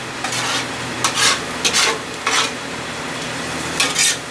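Garlic and smoked paprika stirred on a hot Master Griddle flat-top for seafood paella, a steady sizzle broken by about five separate scraping strokes of a spatula.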